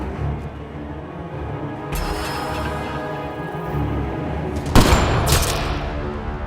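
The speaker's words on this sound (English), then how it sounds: "Sniper, his sights are set on Sloane." A sniper rifle shot in the video game Mass Effect Andromeda rings out loud and sharp midway, with a brief echoing tail, over a steady bed of game ambience and music.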